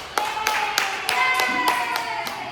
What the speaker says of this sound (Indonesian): Oke, tepuk tangan kelompok 1